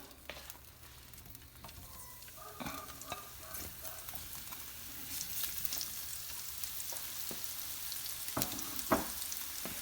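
Portobello mushrooms sizzle and fry in oil in a pan, with scattered crackles and occasional stirring scrapes. A steady, fairly quiet sizzle builds gradually over the whole stretch, with no voices.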